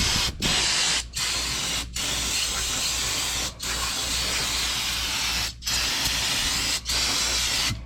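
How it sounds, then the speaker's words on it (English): Brake cleaner hisses from an aerosol can onto the oil filter area under a vehicle during an oil change. The steady spray bursts repeatedly, with six short pauses between long, loud, continuous blasts. "So you can take some brake clean."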